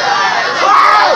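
A crowd of students at a university demonstration shouts and yells together in a loud, dense roar, with one voice rising and falling above the mass near the end.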